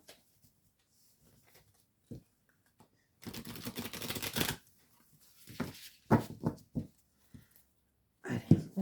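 A deck of oracle cards being shuffled by hand during a tarot-style reading. The sound comes as quiet, close papery riffles and short bursts of card rustling, separated by near silence and a few soft taps.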